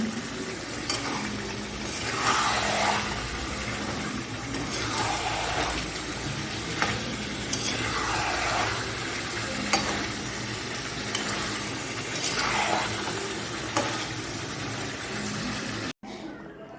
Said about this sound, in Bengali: চিকেনটা দিয়ে দিয়েছি চিকেনটা করছি এটা হলো বিরিয়ানির চিকেন